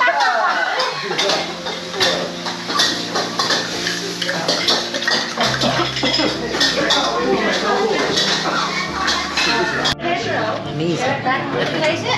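Vegetables and sauce being stirred together in a pan during a Thai cooking class, with steady scraping and clinking of utensil against pan under constant chatter from people nearby.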